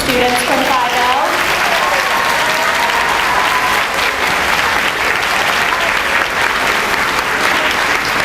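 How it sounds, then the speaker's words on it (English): Dense, loud applause fills a school graduation hall at McKinley School for students of class 5L, a steady unbroken roar of many hands with a few cheers and voices over the top at the start. "We can give a round of applause to students from 5L."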